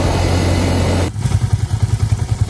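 A Yamaha Vixion motorcycle engine, hot after a test ride and fitted with a replacement cylinder block, runs loud and close, a steady roar dropping to a pulsing, throbbing idle.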